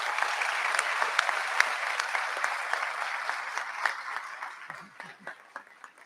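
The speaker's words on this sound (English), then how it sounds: "And please give her a huge round of applause," A crowd at a high school senior recognition ceremony applauds, dense steady clapping that thins to a few scattered claps at the end.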